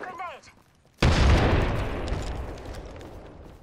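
A grenade blast in the video game Wraith, one loud sudden boom after a short spoken warning, followed by a long rumbling decay that fades slowly over several seconds.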